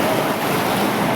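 Floodwater rushes during a severe flood after heavy rain at Mahuva, a loud, steady roar of churning water that resembles crashing surf, with wind buffeting the microphone and no voices.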